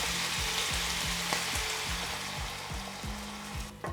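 Garlic and cauliflower fry and sizzle steadily in a pan, with rhythmic stirring scrapes and a hissing surge as hot water is ladled in. The sound is close and continuous, with no talk over it.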